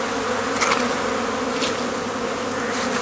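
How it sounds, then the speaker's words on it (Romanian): A dense, steady buzz of many honeybees swarming at hive lids in February, continuous and close, with a few louder passes of single bees flying by, no talk. "Iată, albinii se așează pe capac."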